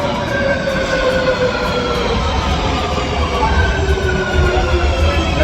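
A red-line metro train pulls into an underground station in Madrid, its wheels squealing in high drawn-out tones over a loud, steady rumble that fills the platform.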